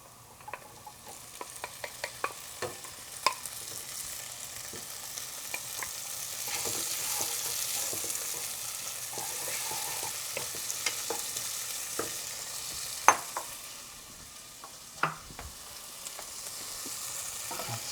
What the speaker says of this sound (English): as soon as you see this sizzling and the smell, you go ahead and add the beans to this